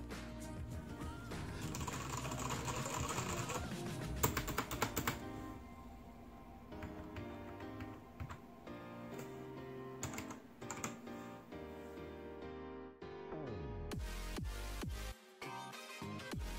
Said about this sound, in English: the Cherry MX Brown switches, which make for a quiet typing experience with this keyboard